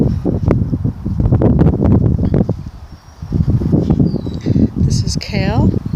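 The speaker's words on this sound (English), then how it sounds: "it's getting windy." Wind gusts through a spring vegetable garden with pole beans, a loud blustery rush buffeting the microphone almost continuously, easing briefly midway, with a voice talking over it.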